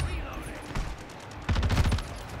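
Rapid bursts of gunfire in a Call of Duty match, a short volley early then a denser rattling burst in the second half, with a player's voice talking over it.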